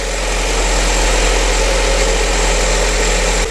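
Lada Vesta engine idling after a full 20,000 km service, a steady close low hum with faint rapid ticking from the hydraulic lifters, loud and unbroken until a brief dip at the end.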